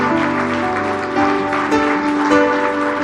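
A church congregation claps in a loud, sustained round of applause during a Spanish-language morning service, the dense clapping steady throughout with faint voices mixed in.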